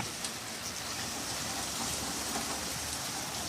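Steady, dense rain from a nighttime thunderstorm pours down in a continuous hiss, fairly close, with no talking and no distinct thunderclap standing out.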